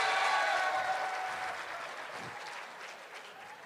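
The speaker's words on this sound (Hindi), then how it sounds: "हामिद मीर साहब के लिए तालियां बजाइए" A live audience claps for Hamid Mir, a full burst of many hands that starts loud and slowly thins and softens over a few seconds, with no clear voices over it.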